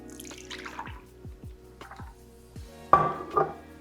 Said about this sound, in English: let's see if I can pour this without making a complete mess on my countertop